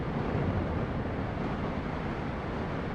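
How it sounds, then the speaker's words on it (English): Hot air roars steadily past a motorcycle helmet on the road, a loud, continuous broadband rush of wind buffeting the rider with no letup throughout. "here comes that hot wind"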